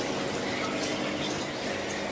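Water running steadily into a glass, drawn to make up a moina culture for feeding betta fish; a continuous close-up rushing flow with no pauses or talk.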